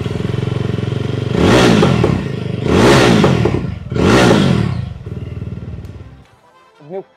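A 2025 Yezdi Roadster with a 334cc liquid-cooled Alpha 2 engine idles, then is revved hard three times in quick succession, each blip rising and falling, before settling back and shutting off.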